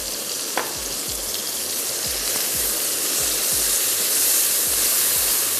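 New Yorker soy sauce hits a hot pan of chicken kung pao rice and sets off a loud, continuous hissing sizzle close by, with a regular low thumping of tossing or stirring underneath and no one talking.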